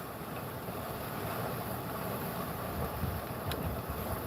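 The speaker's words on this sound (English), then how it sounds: "Sucks trying to cut a video when it's so windy." Strong wind roars steadily across the microphone outdoors on open water, a continuous loud rushing buffet with no let-up and no voices.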